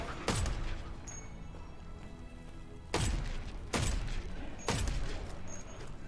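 Heavy gunshots fired at a boss in the survival game Once Human: four loud, booming blasts with long decaying tails, irregularly spaced over a rumbling background, with no one talking.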